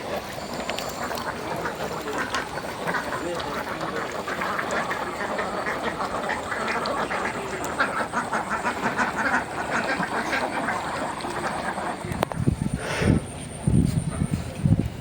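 Ducks quacking in a continuous busy chorus at moderate distance, with a steady broadband wash of calls and some louder bursts near the end.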